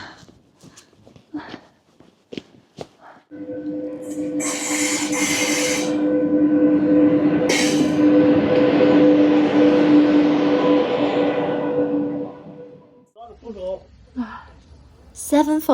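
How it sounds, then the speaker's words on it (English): A train pulled by an electric locomotive rolls past close by in a coal town in Ningxia, China, a loud, steady rumble with humming tones that swells in, holds for several seconds, then fades, with brief talk around it. "This railway line is still running through Shitenzi, now pulled by an electric locomotive"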